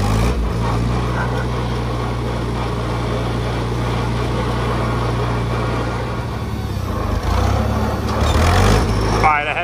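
A 1960 International Harvester Cub Lo Boy tractor engine running steadily up close, with a loud continuous low drone, rising slightly toward the end as it is driven around a yard.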